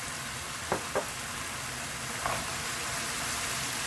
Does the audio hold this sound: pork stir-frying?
yes